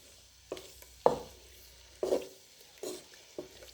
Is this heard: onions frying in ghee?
yes